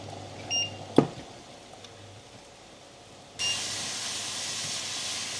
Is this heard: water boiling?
yes